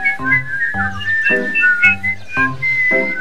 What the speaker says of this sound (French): Alors à partir de maintenant, au lieu de parler, nous sifflons.